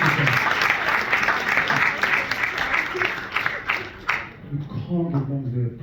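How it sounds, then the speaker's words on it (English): Audience applause and clapping for mothers at a live poetry event, a dense, fairly close burst of clapping that fades out after about four seconds, with a voice talking over it. "Round of applause for all mums,"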